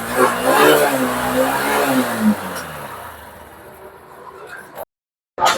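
A Honda Shine BS6 motorcycle engine runs just after self start, a steady close idle with a brief rev rising then settling, ending in an abrupt cutoff; a voice talks over the start.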